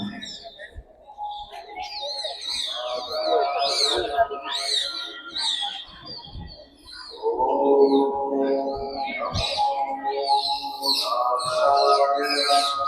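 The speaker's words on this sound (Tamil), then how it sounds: "கிளிலாம் இருக்குங்க மேலே." Parrots call from the tower of the Kallazhagar temple at Alagar Kovil, with a flock giving a run of shrill, chattering squawks in overlapping bursts that carry on throughout.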